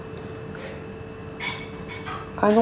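A cat rummages among metal saucepans indoors, setting off a few scattered clinks and clatters of pots and lids, the last one louder and ringing, with a brief spoken exclamation in between.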